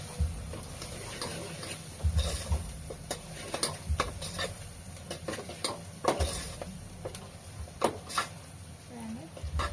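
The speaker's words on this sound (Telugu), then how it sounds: "దీంట్లో ఈ పచ్చి వాసన పోయేంత వరకు ఫ్రై చేసుకుంటాను మంచిగా" Turmeric frying in a pan on the stove for a mutton dish, with a steady soft sizzle broken by repeated clicking taps and scrapes of a stirring spoon against the pan.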